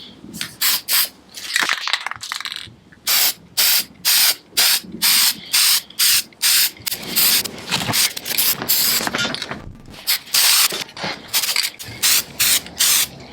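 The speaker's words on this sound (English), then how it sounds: "Just going to put a little clear coat on." An aerosol can sprays clear coat onto a painted propane tank in repeated short and longer hissing bursts with brief gaps between, close and loud, with no talking.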